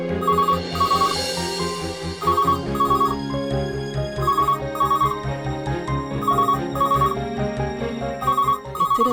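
Telephone ringing at night, repeated electronic ring bursts in a steady pattern over a sustained musical background, clear and prominent with no voices.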